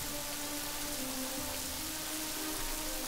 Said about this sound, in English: This rain is torrential. I'm getting soaked.